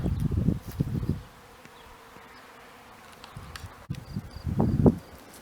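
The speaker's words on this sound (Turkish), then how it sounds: "Arı vızıltıları çok yoğun." Bees buzzing close by in bursts among bellflowers in a flower-covered meadow, loud low droning that fades in and out as insects fly past, with quieter stretches between.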